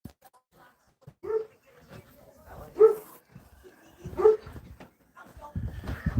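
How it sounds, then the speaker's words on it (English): A dog gives a few short, separate barks and whimpers between quiet stretches, close by, with a person's voice briefly heard. "What are you barking at now, Dumsky?"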